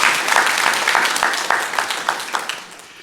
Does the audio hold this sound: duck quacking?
no